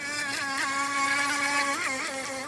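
A SkyTech H101 RC boat's motor whines steadily and close as the boat runs over choppy waves on Oneida Lake, its pitch dipping and rising twice as the hull bounces and catches air.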